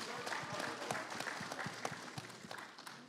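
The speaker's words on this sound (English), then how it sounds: "he deserves a round of applause" A small room of attendees at a security conference Q&A gives a round of applause, the individual claps distinct and fairly quiet, with no talk heard over them.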